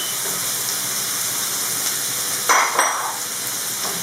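Squid sizzles steadily in a hot pan, a constant loud frying hiss with a brief louder crackle burst partway through as the squid is stirred.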